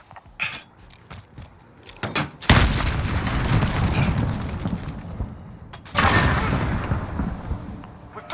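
A grenade explodes in a first-person shooter, a heavy boom followed by a long rumbling tail, then a second loud blast; scattered clicks and smaller impacts come before the explosions.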